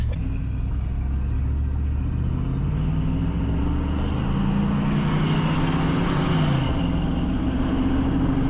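An old truck engine idles and rumbles steadily up close, a deep continuous drone that rises slightly in pitch partway through.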